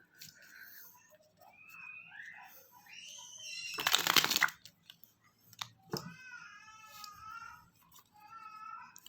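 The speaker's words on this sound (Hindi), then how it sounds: "पहले कार्ड्स को हम अच्छे तरीके से शफल कर लेते हैं।" A deck of tarot cards is shuffled nearby, a brief dense burst of riffling flutter in the middle with scattered soft card taps around it, set among quiet pauses and a faint meow-like voice.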